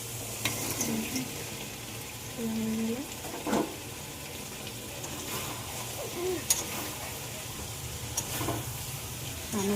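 Elephant foot yam hits hot oil and fried spice paste with yogurt, giving a steady sizzle broken by spatula scrapes and metallic stirring knocks, close by with a faint voice in the background.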